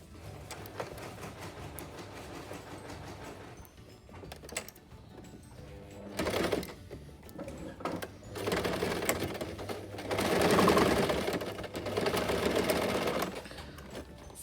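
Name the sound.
sewing machine stitching a face mask seam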